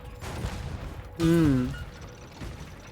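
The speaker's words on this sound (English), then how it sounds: "I did launch it. I launched the firework." A firework launches in the video game Spyro Reignited Trilogy, a sudden whooshing burst with a rising whistle-like tone that swells and fades over a busy game soundscape.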